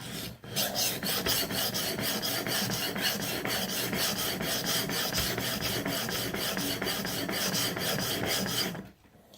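A knife blade is drawn back and forth across a sharpening stone in fast, steady strokes, producing a continuous close, loud gritty rasp with even rhythm that runs almost unbroken before stopping abruptly at the end.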